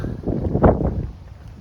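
Wind buffets a microphone during an outdoor walk, a low, muffled rumble that swells into a stronger gust midway and then eases back down.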